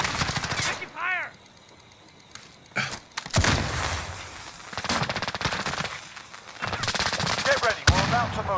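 Bursts of automatic gunfire and sharp single shots crackle in Call of Duty: Modern Warfare, loud and close, broken by short lulls, with brief voice callouts and electronic beeps mixed in.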